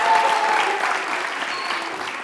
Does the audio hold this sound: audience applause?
yes